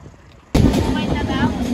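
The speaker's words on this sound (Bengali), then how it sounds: "আমাদের ট্রেন চলা শুরু করে দিছে" Padma Express train on the Dhaka to Rajshahi route, heard from inside a coach as it gets moving: quiet at first, then a sudden loud, sustained rush of running noise that continues steadily.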